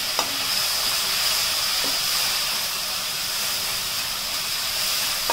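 Tomato, ginger-garlic paste and whole and powdered spices sauté in a hot pan, giving a steady, even sizzle and hiss with a few faint stirring clicks, close and alone without voices.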